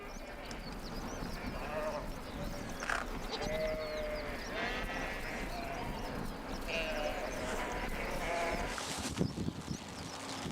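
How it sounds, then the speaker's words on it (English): Several sheep in herds crossing a highway in Badakhshan, Afghanistan, bleat repeatedly at close to middle distance, wavering calls overlapping amid steady outdoor background noise and faint voices. "We encounter herds of sheep crossing the highway."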